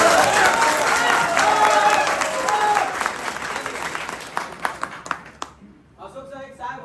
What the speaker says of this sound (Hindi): तालियां को बजाएगा कंजूसी क्यों करते हैं?